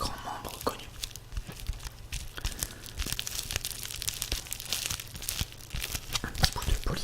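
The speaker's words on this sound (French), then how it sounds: "Un petit bout de polyester avec du scotch. Ça donne un son assez sympa" Close, continuous crinkling and crackling of polyester with adhesive tape, with sharp rustles and snaps throughout, no voices.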